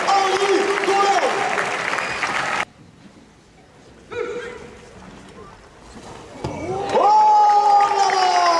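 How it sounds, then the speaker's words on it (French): A large crowd at a recortadores contest in the Arles arena applauds and cheers loudly, fades out, then swells again under an announcer's amplified voice. "Je veux un tonnerre d'applaudissements, s'il vous plaît"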